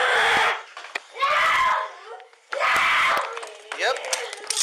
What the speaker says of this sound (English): he was screaming for almost 12 minutes